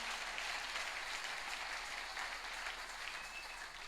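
A congregation applauding during a church service, a sustained wash of many hands clapping together, steady and moderately distant for the whole stretch.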